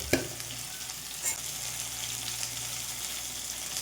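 Curry leaves and a handful of cashews fry in hot oil in a pan, a steady close sizzle with a sharp spit near the start and faint stirring scrapes throughout, no voices.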